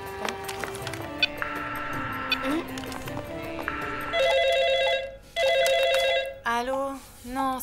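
A cartoon telephone rings in repeated bright electronic bursts, loud and close, after a stretch of animated background music with speech and effects.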